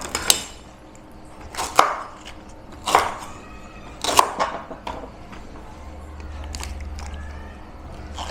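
Several sharp knife chops through firm drumsticks (moringa pods), spaced about a second apart, close and crisp, followed by a low hum near the end.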